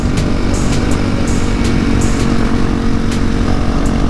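Honda CRF450L supermoto motorcycle engine running at a steady idle or light throttle, a continuous close, loud mechanical drone with rhythmic low pulsing throughout, no talking.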